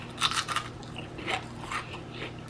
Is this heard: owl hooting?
no